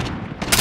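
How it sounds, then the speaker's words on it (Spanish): Gunfire rings out in a Call of Duty match, a sharp burst of shots that grows louder over less than a second, heard alone without voices. "Le disparo y no lo mato."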